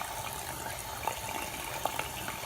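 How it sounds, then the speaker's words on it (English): Tap water running steadily under a faucet onto makeup brushes and blenders being washed, a constant close gush with a couple of faint clicks. "I just run a little bit of water under here"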